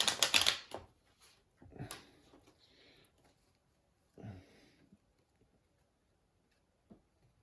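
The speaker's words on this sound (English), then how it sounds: "One more shuffle." Soft riffling bursts of cards being shuffled, several quick flurries separated by pauses, close and fairly quiet.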